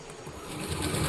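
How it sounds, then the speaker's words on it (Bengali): A sewing machine runs a quick, steady line of stitches on scrap fabric for children's pants, with a close, continuous whirring hum that grows slightly louder over about a second. "আমরা একটি মাত্র সেলাই করবো"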